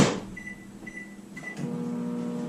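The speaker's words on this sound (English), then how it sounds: "in the microwave for 30 seconds at a time, and then until they're all melted" A microwave oven running to melt candy for cookie balls: a steady low hum after a door or button clunk, with a few short tones early on, no talk.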